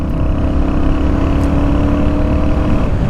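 A Royal Enfield Hunter 350 motorcycle pulls hard through the 40 to 80 km/h range, its steady loud engine drone and exhaust roar heard from the rider's position with constant wind noise and no pauses.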